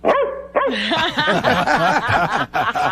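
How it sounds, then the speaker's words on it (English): A dog in a television studio lets out a quick run of close, loud barks and yips, with snickering laughter mixed in. "Cookie, bark twice if you want me to rescue you"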